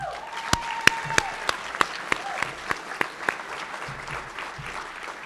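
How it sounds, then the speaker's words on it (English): Graduation audience clapping for a cohort of apprenticeship-readiness graduates, sparse crisp individual claps punctuating a steady bed of applause, with a faint tone running through the first second. "Give yourselves a round of applause."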